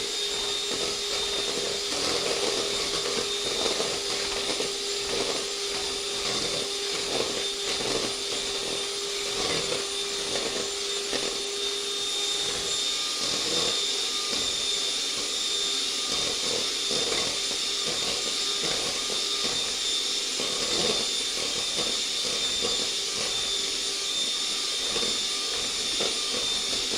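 Electric hand mixer whirring steadily through banana pudding ingredients, a continuous buzzing drone with a faint whine that holds for the whole stretch, close and moderately loud, with no talking.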